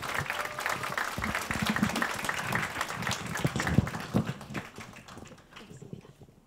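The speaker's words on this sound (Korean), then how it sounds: "큰 박수로 맞이해 주시기 바랍니다." An indoor lecture audience at a 2015 Baemin Academy talk event gives warm, sustained applause to welcome a speaker. The clapping is dense and steady, then thins and fades toward the end.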